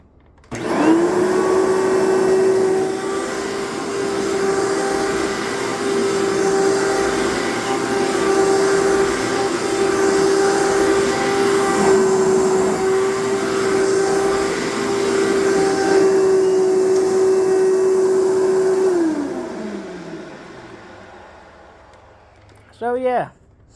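A Dirt Devil Featherlite vacuum cleaner starts up and runs with a loud, steady motor whine for about eighteen seconds, then winds down, followed by a brief clatter.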